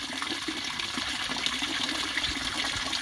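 A large pond pump drives a strong, steady rush of water into a koi pond, a continuous close gushing and splashing with no talk.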